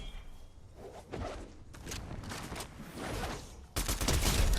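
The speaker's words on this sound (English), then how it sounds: "These people are fighting with auto shotguns." Auto shotguns fire in rapid bursts during a Fortnite battle, with quick overlapping blasts of moderate loudness, some nearer than others, and a louder volley near the end.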